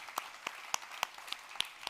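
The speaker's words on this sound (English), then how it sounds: "And I think it deserves a round of applause." Brief, sparse clapping from a conference audience, a handful of distinct claps at a steady pace, fairly close and fairly quiet.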